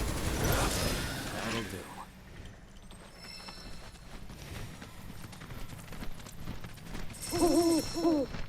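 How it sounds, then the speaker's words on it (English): An owl-like hooting from a phoenix in the video game Final Fantasy VII Rebirth, heard as a few tonal calls within busy game sound that includes clip-clopping hooves, with a voice speaking. "Why do you sound like an owl?"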